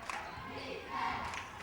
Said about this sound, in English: everyone's clapping and yelling defense